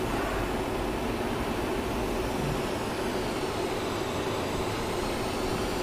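A jet aircraft engine in the DCS World flight simulator gives a loud, steady whining roar, with a faint tone that slowly shifts in pitch as the engine runs.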